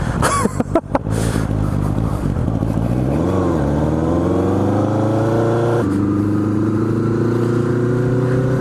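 Honda Nighthawk motorcycle engine idling close by, then revving up and accelerating away steadily as a group ride sets off, with a rising and shifting drone that holds loud throughout.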